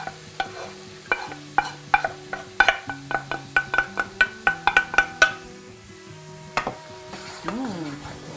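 Vegetable mix stirred in a hot pan during cooking, with a steady run of utensil clinks and scrapes over a soft sizzle, set against tonal background music that carries on after the stirring fades.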